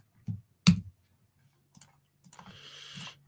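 A few scattered clicks and keystrokes on a computer keyboard, one sharp loud tap then faint ones, and a brief burst of quicker, softer typing near the end.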